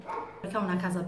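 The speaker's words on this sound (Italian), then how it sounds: "scusate i cani" Dogs barking at home, a few close barks and yips overlapping with a person speaking Italian.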